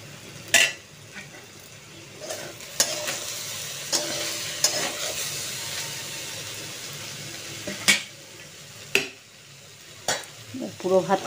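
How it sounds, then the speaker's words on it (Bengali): Cooked rice added a little at a time to a hot frying pan for Bengali fried rice, with a continuous sizzle under sharp, repeated clinks and scrapes of a utensil against the pan. "আস্তে আস্তে অল্প অল্প করে ভাতগুলোকে দিয়ে দিই।"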